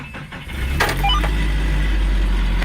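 A 1995 Nissan pickup, left unstarted for a year and a half and fitted with a new battery, cranks briefly and catches, then settles into a loud, steady cold idle close by.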